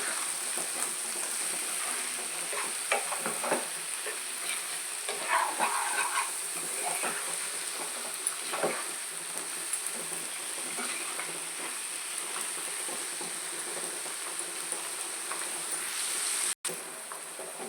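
Eggplant frying in a pan, a steady soft sizzle and hiss with occasional scrapes and taps of stirring, fairly faint and continuous, with a sharp click near the end.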